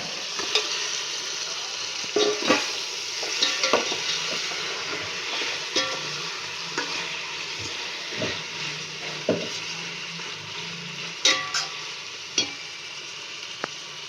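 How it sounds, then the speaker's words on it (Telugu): Chicken frying in hot oil in a pot while being stirred, for chicken dum biryani; a continuous close sizzle with repeated sharp scraping clicks of the spoon against the pot, no speech. "ఇప్పుడు మనం చికెన్ వేసుకుందాం"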